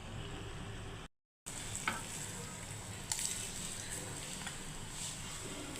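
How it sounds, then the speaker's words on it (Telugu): Steady, crackling sizzle of spices tempering in hot oil for egg pickle, close by, with a brief drop to silence early on before the hiss resumes. "పోపు వేస్తున్నాను"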